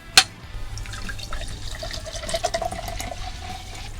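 A home-canned seltzer water is cracked open with one sharp pop, followed by a steady, close carbonated fizz and faint trickling that continues to the end.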